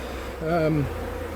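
Honey bees gather on the inner cover and entrance of an opened hive, giving a short, steady buzz that swells briefly with a rising and falling whine before settling back into a low hum.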